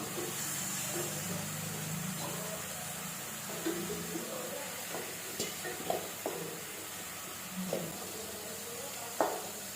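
Mushrooms, about 200 grams, sauté in oil in a kadai, giving a soft steady sizzle with occasional clinks and scrapes of stirring, fairly faint and without voices.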